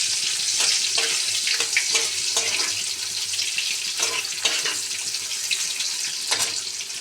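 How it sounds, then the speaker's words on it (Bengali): Pointed gourd (potol) frying in a pan with a little turmeric gives a steady, loud sizzle, with occasional scraping stirs and clinks throughout. "যেহেতু পটলটা ভাজছি"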